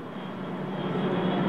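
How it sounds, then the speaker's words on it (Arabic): An Ilyushin Il-78 refuelling tanker flies overhead during an air show formation with Sukhoi Su-30 jets, its engines producing a steady, loud, building roar with no voices present. "تتقدم طائرة التموين اليوشين 78"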